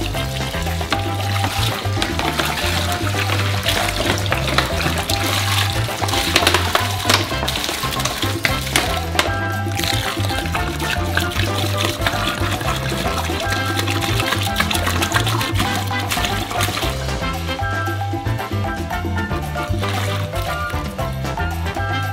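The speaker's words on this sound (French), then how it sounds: "on verse d'abord la moitié de l'eau." A steady, loud rush of water pours into a large bowl, about 35 of 70 litres, for a giant homemade Skittles candy, running continuously and close without a break.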